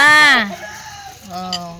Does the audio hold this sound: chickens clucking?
yes